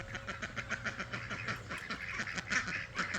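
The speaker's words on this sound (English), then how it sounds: "Hey, ducks, you're not going away there." Farm ducks quack repeatedly in a lively, overlapping chorus, close by and fairly loud, continuing without pause.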